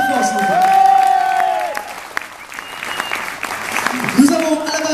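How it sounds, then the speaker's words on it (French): Festival crowd applauding and cheering for a singer, the clapping loud and continuous while amplified voices and some tonal sounds ring over it. "on l'applaudit très fort s'il vous plaît."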